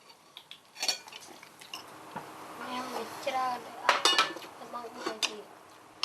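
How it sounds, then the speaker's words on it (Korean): Cooked rice is scooped and pressed firmly into a bowl at home, with scattered clinks and scrapes of utensil on dishware, near and moderately loud, while a voice speaks in the background. "허기졌을 동생을 위해서 라정이는 꾹꾹 눌러 담아 밥 한 그릇을 채웁니다."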